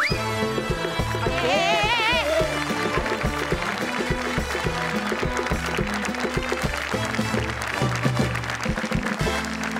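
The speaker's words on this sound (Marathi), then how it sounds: "जोरदार टाळ्या मॅडम साठी" A studio audience at a Marathi comedy stage show applauds a performer, the clapping blended into loud, busy music that plays throughout without pause.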